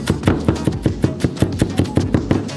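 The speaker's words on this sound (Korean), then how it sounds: "칠리페퍼의 절반을 잘게 자르고" A knife chops half a chili pepper on a board in about a dozen quick, evenly spaced, crisp knocks, close and clear with no talk over them.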